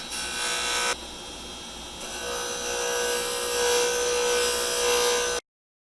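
A roughing gouge cuts an Alumilite pen blank spinning on a lathe, giving a continuous loud scraping hiss over the motor's hum that shifts in tone as the tool moves, then cuts off abruptly.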